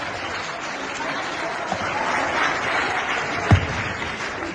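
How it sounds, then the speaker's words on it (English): Audience applause rises as a dense, continuous patter of many hands at a live event in Ghana, steady and fairly close, with one louder thump near the end. "A round of applause for Raphael Obengo-Usu, aka Betona."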